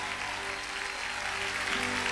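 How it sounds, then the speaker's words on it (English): Sustained applause and hand clapping from a church conference audience, a dense steady patter of many hands filling the hall, with no one speaking over it. "give God a big hand clap"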